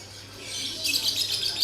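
An adult lovebird chirping, a short run of bright, high tweets that grows louder toward the end over a faint background hum, with no talking.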